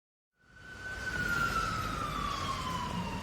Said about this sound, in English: What's that noise? It sounds like an ambulance.